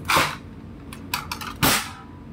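Spring airsoft gun firing, two sharp loud pops with a cluster of quieter clicks between them, close and dry, no speech.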